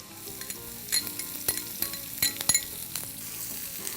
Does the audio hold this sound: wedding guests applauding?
no